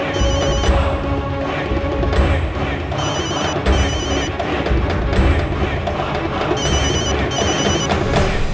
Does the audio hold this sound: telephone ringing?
yes